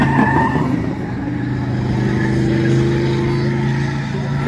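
Race car engine droning loudly and continuously as it laps a track in a race that runs rain or shine, with steady harmonic engine tones and faint tire noise. Speech-like sounds blend in from onlookers.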